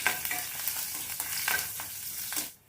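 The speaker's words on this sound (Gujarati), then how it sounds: "આટલી વસ્તુ એડ કરી અને આપણે બરાબર વઘાર તૈયાર કરી લઈએ" Garlic and chopped green chilli sizzle in hot oil for a Gujarati tempering, a steady close frying hiss with a few stirring scrapes, then cutting off abruptly near the end.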